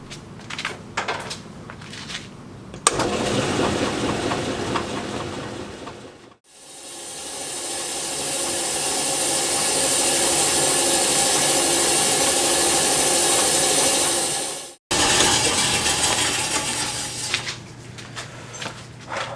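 Lapidary slab saw cutting through rough St. Helens moss agate: a loud, continuous grinding hiss that drops out briefly twice as the blade restarts, then settles into an even, sustained whine.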